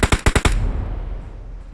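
Rapid bursts of automatic gunfire crack out in quick succession during a HyperX scrim match in a video game, followed by a decaying rumble and echo.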